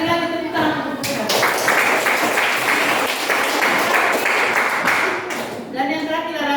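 Classroom applause for student groups after their presentations, a burst of clapping from a room of students starting abruptly and fading after about five seconds, with a voice speaking before and after.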